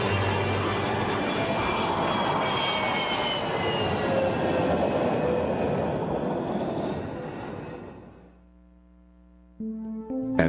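A Northrop YF-23 Black Widow jet aircraft flies past with a loud, broadband engine roar that sustains for about eight seconds, then fades sharply, leaving a quiet tail and a brief later noise.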